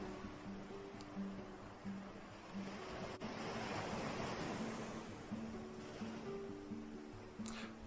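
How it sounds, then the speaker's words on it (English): Sea waves wash onto the shore in a soft, swelling surge that rises and falls, distant and fairly quiet, with a little wind noise and a faint steady tone underneath. "And this is the sea."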